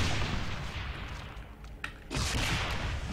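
A rocket launcher fires in Brutal Doom, with heavy booming blasts and a roaring rumble. One burst fades out and a second loud blast hits just past the two-second mark, close and dense, with no talking.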